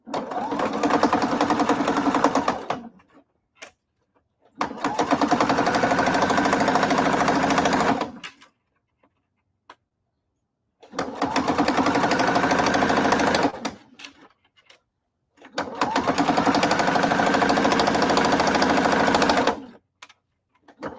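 A sewing machine stitches a seam on a denim corset in four loud, steady runs of rapid whirring, each lasting a few seconds with short silent pauses between them.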